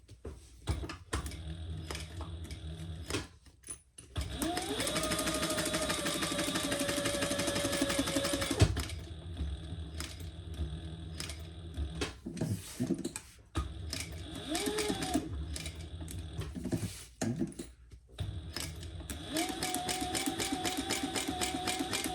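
A sewing machine runs in several stitching bursts on fabric for a drinks-themed pattern, its whirring motor starting and stopping with pauses and small handling clicks between runs, close and fairly quiet.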